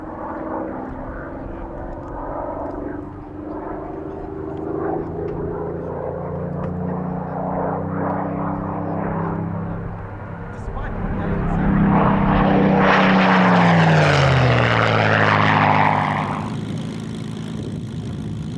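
A Supermarine Spitfire fighter flies a display at the 1996 Duxford airshow, its piston engine droning and rising to a loud, Doppler-shifted pass as it sweeps close by. A commentator talks over it throughout.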